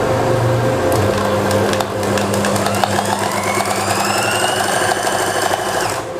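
Sewing machine running steadily as a shirt is stitched, a continuous loud mechanical whir with rhythmic needle clatter and faint rising tonal whine, no talking.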